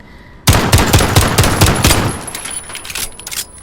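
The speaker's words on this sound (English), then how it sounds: "now we are running the 1911. Again, no attachments." A 1911 pistol in Call of Duty Modern Warfare fires a loud, rapid string of shots with no attachments. The closely spaced cracks run for about three seconds before trailing off.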